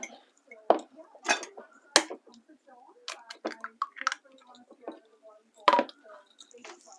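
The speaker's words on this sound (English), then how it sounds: "We'll get the eggs in next, one at a time. Crack them into a cup." Eggs cracked one at a time into a cup while making a ham and leek pie, giving sharp separate taps and wet drips close by, with a person talking throughout.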